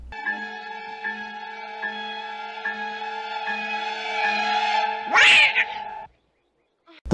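In a scene from the horror film Humanoids from the Deep, a cat gives a long, drawn-out meow that swells and ends in a sharp, loud screech, followed by sudden silence.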